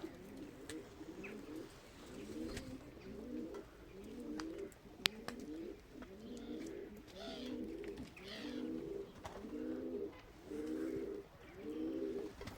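Pigeons coo in a steady run of about ten repeated, rolling low calls at regular intervals, fairly close and quiet, with a few small clicks and bumps in between.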